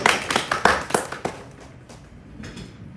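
A small audience at a conference gives a short round of applause: a burst of claps that thins out within a second or so, leaving quiet room tone.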